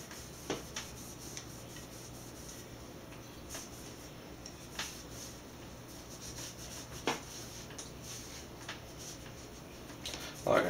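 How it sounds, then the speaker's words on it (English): A cloth wipes down a clean AR-15 bolt carrier, making quiet, close rubbing strokes with scattered light ticks and taps of metal, a louder clatter near the end, and no talk. "Carrier, wipe it down. Get all the grime or anything might be on it off."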